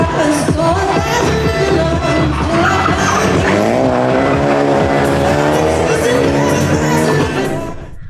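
Rally cars roar and rev loudly at a Race Rally Rave event in the Dolomites, engine tones rising and falling over music and crowd noise, with a brief squeal and the sound fading at the end.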